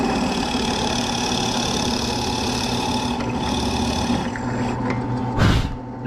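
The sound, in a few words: drill press boring 20 millimeter mortise holes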